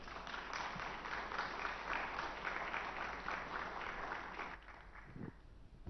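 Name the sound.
audience applause after speech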